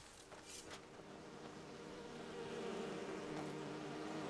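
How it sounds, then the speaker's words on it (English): A low, continuous swarm of bees drones in the game Enderal, faint and steady, slowly swelling slightly with no talk over it. "There's a lot of bees."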